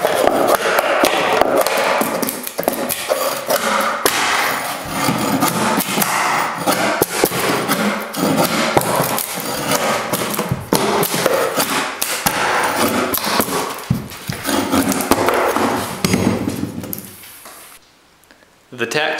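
Old carpet tack strip is pried up and hammered off a floor, giving repeated sharp knocks, thuds and scraping close by in a busy, continuous stretch, with a person talking over it.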